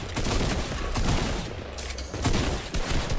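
Dense video-game gunfire rattles in rapid overlapping volleys, loud and close, continuing almost without a break across three seconds, with no talking.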